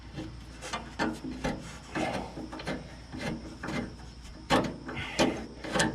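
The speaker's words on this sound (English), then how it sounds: "we're going to tap some new threads in this thing" A tap cuts new 5/16 threads into a drilled bolt hole on a John Deere Model 15 flail chopper, a rhythmic series of close scraping, rasping strokes in quick repeated bursts.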